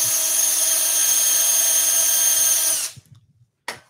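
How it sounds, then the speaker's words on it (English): Power drill running steadily into wood at a woodworking bench while building a Christmas carousel, a loud continuous whine for nearly three seconds that stops abruptly, followed by a brief second burst. "Line up with the tape or drill into the tape."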